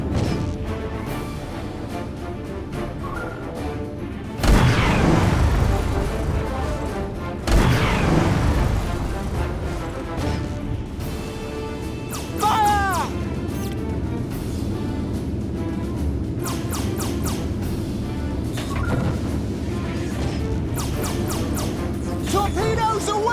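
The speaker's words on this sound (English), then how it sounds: "Torpedoes away! Fire!" Torpedo launches and explosions in a Treasure Planet naval battle at Procyon: two heavy booming blasts land close together early on, then lighter crashes and effects follow over a steady low rumble of game music and engine noise.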